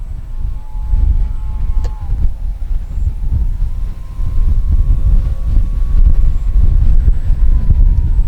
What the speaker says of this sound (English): it really is windy right now